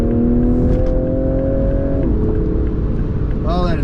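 A 2024 Toyota Supra in sport mode accelerates hard, the engine note climbing, dropping at a gear change and climbing again, loud and close inside the cabin.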